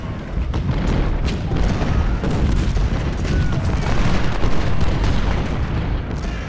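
Massed musket volleys from Civil War troops in the strategy game Ultimate General: Civil War, a dense, continuous rumble of overlapping shots and booms with no talking.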